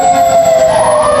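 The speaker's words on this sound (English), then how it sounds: "He's playing that siren a little low." A volunteer fire department's fire truck siren sounds at a Christmas parade in Roxboro, a loud, steady wail held fairly low and rising slightly toward the end, continuous through the whole moment with no talking.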